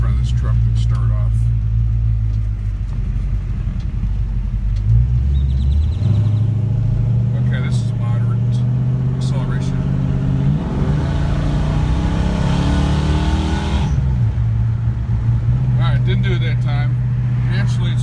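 A Dodge Magnum pulls away from a stop in front of a truck, its engine idling low then rising in a steady, loud drone as it accelerates from inside the cabin, with speech over it.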